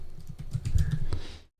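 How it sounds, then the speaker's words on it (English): Rapid typing on a computer keyboard, a quick close run of soft clicking keystrokes that stops abruptly into silence. "We can start typing."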